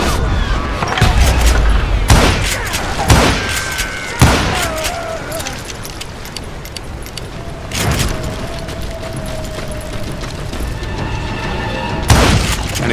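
Gunfire in the Western shooter Call of Juarez Gunslinger: several loud, close gunshots and heavy booms land at irregular intervals, with ringing tails and clattering debris between shots.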